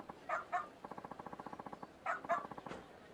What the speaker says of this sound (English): it just keeps barking